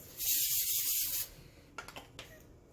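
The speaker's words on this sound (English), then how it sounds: "spray a little bit of coconut oil cooking spray" A coconut oil cooking spray can hisses in one steady burst for about a second, followed by a few faint clicks and taps.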